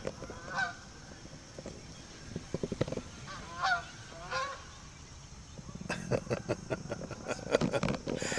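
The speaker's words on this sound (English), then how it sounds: "We have geese out at our house that fly by all the time" Geese honk repeatedly while flying by, a few calls at first, then a denser burst of honking as the flock passes, fairly near.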